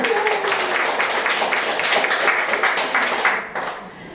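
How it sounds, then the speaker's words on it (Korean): Lecture audience clapping for a professor's talk on emotional expression essay writing, a steady dense patter across the room that thins and fades near the end. "박수 쳐주십시오"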